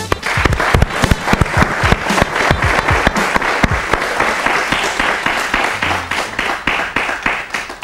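An audience at a live technology event in Mozambique applauds the sponsors with loud, close, energetic clapping. Sharp individual claps stand out at first, then blend into a sustained round that slowly tapers.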